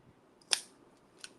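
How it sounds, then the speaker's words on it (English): Thick crafting scissors snip twice, a sharp crisp cut followed by a quieter second snip about three-quarters of a second later, close by in a quiet room. "Get my thicker scissors to cut this,"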